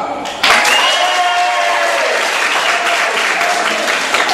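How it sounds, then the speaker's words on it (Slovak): Loud, continuous audience applause at a Slovak battle rap and beatbox event, swelling suddenly after a brief quieter start and holding steady throughout, with some crowd noise mixed in. "Potlesk pre Typka."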